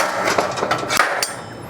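A small wide-headed hammer taps an MGB's metal front fender panel several times in quick, uneven strikes, close and fairly loud.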